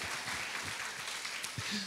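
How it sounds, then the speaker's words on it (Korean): A congregation claps at a worship revival meeting held at a prayer retreat center. Broad, dense applause runs steadily for about two seconds, with a voice speaking over it. "아이고, 박수 쳐줘요."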